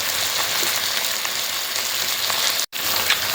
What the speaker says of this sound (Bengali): আলুটা একটু ভাজা ভাজা করে নিয়ে আদা রসুন পেস্টটা দিয়ে দেবো।